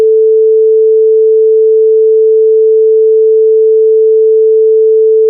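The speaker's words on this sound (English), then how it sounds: "Sorry about these redactions. They're loud." A single continuous, loud pure-tone redaction beep in a 911 emergency call recording, held unbroken for over five seconds with no other sound.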